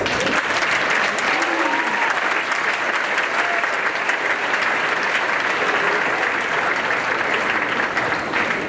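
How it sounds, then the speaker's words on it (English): Steady audience applause at a senior awards ceremony, a dense wash of clapping that holds evenly for the whole stretch with faint voices mixed underneath. "Let's give these folks a round of applause."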